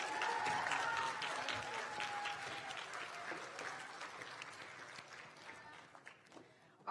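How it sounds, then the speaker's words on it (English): Steady applause from an audience at a student affairs leadership awards ceremony, loud and continuous at first, then gradually thinning toward the end, with some crowd voices mixed in. "Keep clapping, guys."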